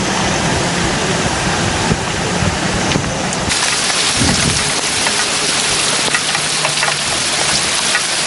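Heavy rain pours down continuously as a loud, dense roar in news footage of flooding, with no voices over it.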